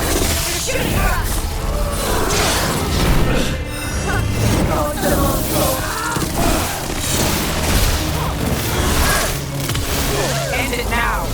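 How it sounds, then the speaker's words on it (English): Gunfire and explosions from the video game Dragon Age: The Veilguard crackle and boom continuously, mixed with whooshes and crashes, with voices talking over the dense, loud battle. "They're shooting for us!"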